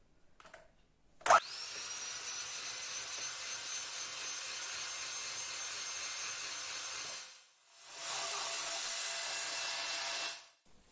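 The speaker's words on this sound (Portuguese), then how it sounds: "Com a batedeira vamos envolver." An electric hand mixer runs at steady speed, folding a dessert mixture with beaten egg whites, a continuous whirring drone close up that stops briefly, then resumes before cutting off.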